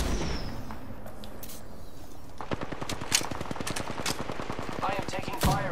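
Automatic weapon fire from an Apex Legends match: rapid, sustained bursts of shots that get denser and louder partway through. Game effects and faint chatter sit underneath.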